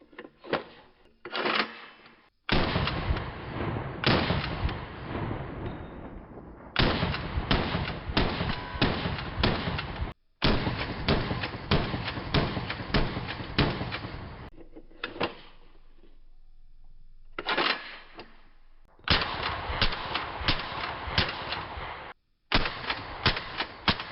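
A 5.56 AK-pattern rifle from Palmetto State Armory that takes AR magazines fires long rapid strings of loud, close shots. Brief gaps and short pauses break up the strings, and no one speaks.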